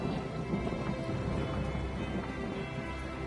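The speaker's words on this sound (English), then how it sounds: "It is nice and foggy and rainy over here." Steady rain hisses evenly throughout, a dense wash of drops with a low rumble underneath and no voices.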